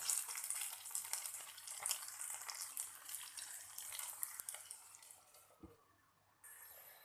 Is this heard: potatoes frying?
yes